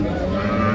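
Cattle low at a crowded heifer market in Dewhata, Tangail, a dense, steady lowing texture filling a brief moment close by, with faint crowd murmur underneath.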